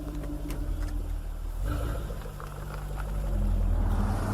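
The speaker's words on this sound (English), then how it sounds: "as you fire the engine and a spectacular set of aural fireworks begin." Jaguar F-Type R firing up, a deep engine burble that settles into a steady idle and then swells louder toward the end, exhaust-heavy and close.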